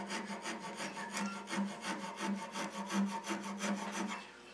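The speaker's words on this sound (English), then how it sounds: "just keep filing" A wood rasp files across a workpiece during spiral turning, making steady rhythmic back-and-forth rubbing strokes, close and fairly quiet, with no talk.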